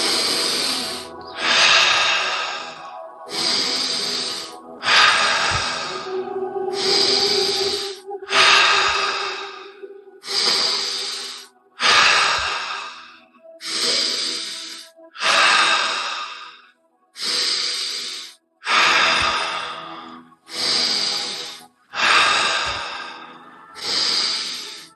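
Deep breathing exercise with full breaths in and out, about fifteen long, loud, close breath cycles with short silent gaps between them, in a steady rhythm and with no talk.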